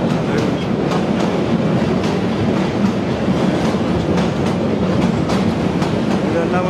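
A passenger train from Dhaka to B Baria rumbles along continuously at close range, loud and steady, with a rhythmic clickety-clack of wheels over rail joints.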